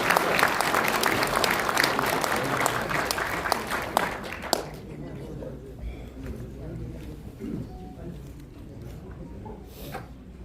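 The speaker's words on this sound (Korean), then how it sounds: "큰 박수 부탁드리겠습니다" A crowd applauds loudly as a lawyer is invited to the front at a talk event, the clapping fading out around the middle and leaving a quieter room with faint scattered sounds.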